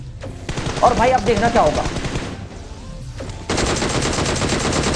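Automatic M4 rifle gunfire in PUBG, with rapid sustained bursts, a brief pause, then another long loud burst, while someone talks over the first part.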